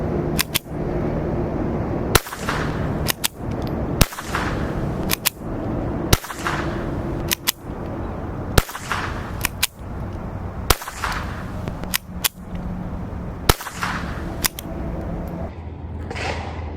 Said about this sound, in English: now we're going to try it, the CCI segmented quiet without the can